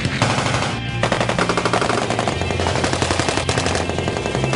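Army automatic weapons fire together during basic training, including .50 cal, M240 Bravo and M249 machine guns, in a loud, continuous, overlapping rattle of rapid bursts with no pauses and no talking.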